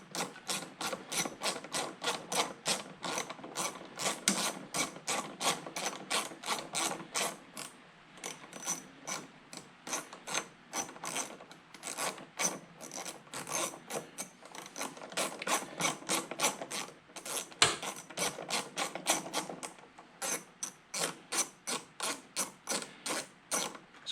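A socket ratchet wrench backing out an 11 mm bolt on a lawn tractor with a Briggs engine: rapid close clicking in bursts of strokes with short pauses between, no talk.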